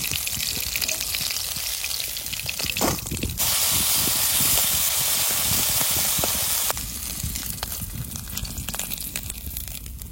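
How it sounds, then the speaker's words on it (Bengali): Tangra fish sizzle steadily and loudly as they fry lightly in oil in a pan, a continuous close-up hiss that swells briefly louder in the middle. "বেশি কড়া ভাজা দেবো না, হালকা ভাজা দেবো মাছ।"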